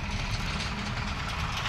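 Tractor engines idling as the machines stand in a line at a potato field, a steady low diesel rumble heard close by with no voices.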